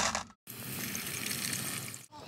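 Water pours from a kitchen tap over raisins set to soak for a Kuwaiti chicken machboos stuffing, a steady close splashing rush that starts and stops abruptly.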